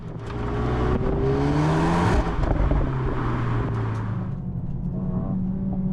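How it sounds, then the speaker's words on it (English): A 2023 Mercedes-AMG A35 hatchback engine revs hard and loud, pitch climbing then settling into a steady throaty drone, close by with no talking. "The other thing about this engine is the sound, as you saw earlier."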